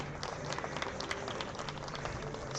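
An audience claps at the closing ceremony of the 2021 Arzum Turkish Women's Chess Championship, a steady, moderately distant patter of many hands in a hall that holds an even level throughout.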